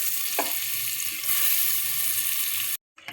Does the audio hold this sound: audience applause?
no